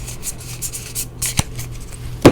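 Magic: The Gathering trading cards are flicked through in a short series of soft, papery swishes and light rubs, close and fairly quiet, with one sharper snap near the end and no talking.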